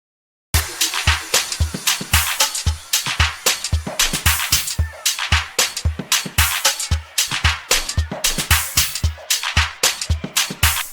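A steady electronic drum loop with punchy low kicks and crisp shaker hits keeps an even, repeating groove, close and dry, with no voices.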